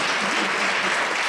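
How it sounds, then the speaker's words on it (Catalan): Dense, steady audience applause for the presenter at a charity festival, a continuous wash of many hands clapping with no pauses. "Un aplaudiment per ella."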